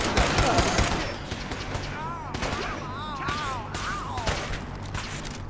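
Gunfire rattles in the Fallout 4 video game, a dense burst of shots at the start followed by scattered reports under continuous game sounds and whistling tones. Voices are heard over the firefight.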